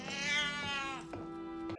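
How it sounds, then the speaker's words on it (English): A cat meows in a long, strained, agitated cry from a horror film, rising and then falling away, followed by a short sharp yowl near the end, close and fairly loud with no talk over it. "Cat's freaking out."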